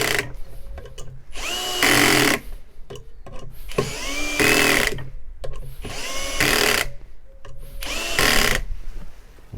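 A Parkside Performance 20V brushless cordless drill drives small screws in four short, loud whirring bursts separated by pauses, each rising in pitch as it spins up.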